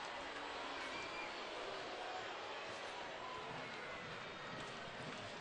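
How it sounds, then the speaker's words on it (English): A large ballpark crowd at a Kansas City at Cleveland baseball game murmurs and oohs in a steady, dense wash of far-off voices with no single standout burst. "Crowd oohing and awing"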